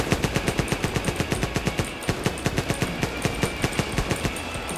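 Rapid automatic gunfire in GTA as police are shot at, loud and close, with steady bursts of shots repeating for about five seconds with short gaps and no voices.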